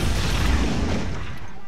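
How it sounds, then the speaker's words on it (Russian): A loud, dense rumbling blast fills the battlefield in the real-time strategy video game Red Alert 3, a broad sustained boom with crackling debris that slowly tails off. "Да и взрыв к тому же произошел."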